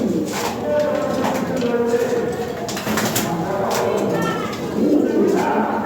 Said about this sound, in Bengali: ভরপুর ব্রিডিং করতেছে কবুতর, অনেক সুন্দর কবুতর ভাই।